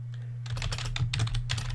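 Rapid typing on a computer keyboard, a quick steady clatter of keys close by with a low hum underneath.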